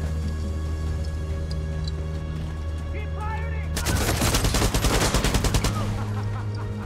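Rapid automatic gunfire in the video game Far Cry 6, a dense burst of shots from about the middle of the clip over steady game background hum, loud and close, with short pauses between volleys.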